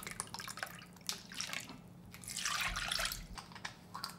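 Soy sauce poured into a measuring cup for a pickle brine of L.A. style jangajji: a soft, close trickle and splash of liquid, intermittent at first, then a fuller continuous pour midway, fairly quiet.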